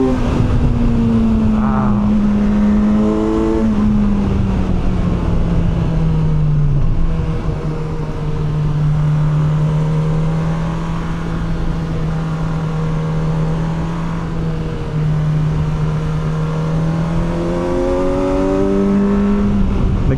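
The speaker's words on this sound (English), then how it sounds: "That's what you get an inline 4 for right there. Man, that sounds good." The inline-four engine of a Kawasaki Versys 1100 SE motorcycle revs loud and close, rising and falling in pitch over a steady drone with wind rush. Nobody talks.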